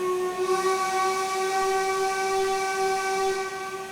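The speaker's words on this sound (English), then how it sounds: "Here's the main whistle sound." Main whistle of an LMS Black 5 steam locomotive in a train simulator game, one long, steady, shrill multi-tone blast held loud and unbroken for the full length, with no talk over it.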